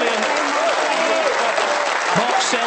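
Snooker crowd at the 2022 British Open applauding and on their feet after Mark Selby's 147 maximum break, with sustained clapping and a commentator speaking over it.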